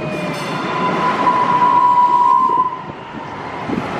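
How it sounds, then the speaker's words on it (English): A passenger train at Downtown Dallas Station rumbles past nearby with a steady rolling roar and a thin, high wheel squeal that rises and then fades. "So, ito na yung train."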